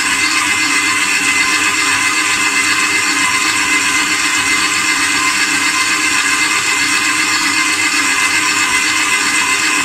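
An electric mixer beats buns dough with softened butter pieces, a loud continuous motor whir with a steady, unchanging drone and no voices.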